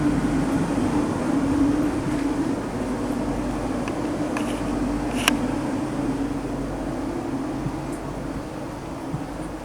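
Inside a London Northwestern Railway Class 730 electric train heading toward Harrow on a Tring service, a steady low rumbling hum of motors and wheels on rails with faint clicks, continuous and fairly quiet, no talking.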